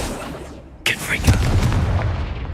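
A Confringo blasting spell in Hogwarts Legacy bursts with a sudden sharp boom and then a rumbling, crackling tail, loud and close, following a spoken word.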